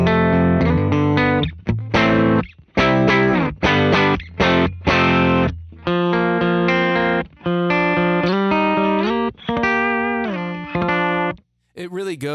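Electric guitar run through a Warm Audio Pedal76 compressor pedal, playing loud chords and single-note phrases in choppy bursts with short gaps, one brief pause near the end, no talking over it.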